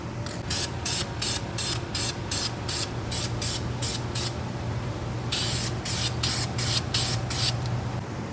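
A spray can lays a very light clear coat onto the brake calipers of a Mercedes GLA45 AMG. Quick, close, hissing spray bursts come in rapid rhythmic puffs, about a dozen in one run, a short pause, then another series.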